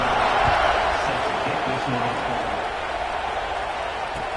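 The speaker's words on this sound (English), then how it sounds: "this crowd is buzzing after that last score" A football stadium crowd buzzes after a touchdown, a dense, steady roar of many distant voices with a swell of applause early on, fading slightly to a constant background murmur.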